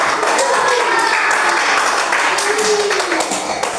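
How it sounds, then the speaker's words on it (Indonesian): A classroom of students applauds group 1 with dense, steady hand clapping that fills the whole stretch, with voices mixed in beneath it. "kita tepuk tangan dulu untuk kelompok 1"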